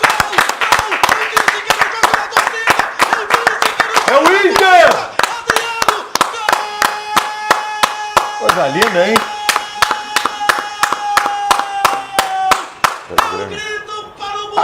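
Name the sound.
people clapping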